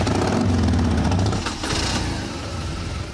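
Several motorcycle engines start and rev together in a loud burst that cuts off midway, leaving a rougher, broadband rush of engine and wind noise.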